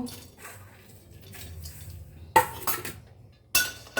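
Dry cashews, makhana and pistachios tumbling into a metal pan for roasting, with a couple of sharp clinking rattles after quieter handling noises, close and without talk.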